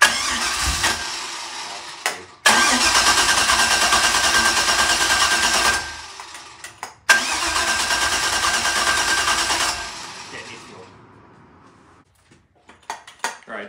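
A carbureted LS V8 on a run stand cranks in two long bursts of loud, even starter whir, separated by a short pause. It ends in a few faint clicks and rattles near the mic, without catching.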